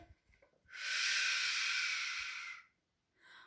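A voice imitates blowing wind with a single sustained, breathy whoosh of about two seconds that swells in and tapers off, heard alone against a quiet background.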